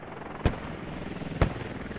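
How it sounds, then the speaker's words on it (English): A helicopter in the military video game Eye in the Sky, set at an Iraqi airfield, gives a low rotor drone, cut by two sharp impact-like bangs about a second apart. "Helicopter comes in."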